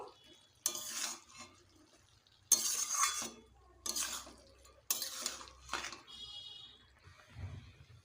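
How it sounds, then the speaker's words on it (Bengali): A spoon scrapes through cabbage and fried potatoes being sautéed in a pan, giving about five separate stirring strokes with pauses between them and a faint sizzle and clink. "ভালোভাবে কপিটাকে কষবো"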